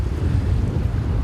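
Strong wind beside a bridge roars steadily and loudly into the microphone, a constant low rumbling buffet with no pauses.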